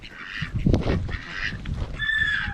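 A goose and Muscovy ducks honking at close range, a few short nasal calls over about two seconds with faint shuffling between them.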